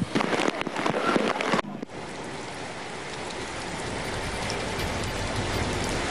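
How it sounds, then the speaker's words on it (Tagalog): Heavy rain pours steadily during flooding in Manila, a dense continuous hiss of falling water and splashing that starts after a brief louder burst of mixed noise and holds at an even level to the end. "Paulo, Cherry, hanggang sa mga oras na ito, hindi pa rin tumitila yung ulan."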